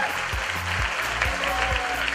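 Steady clapping from a large seated audience at the Shalom Yerushalayim Festival in New York, a dense continuous round of applause with low thumps beneath it.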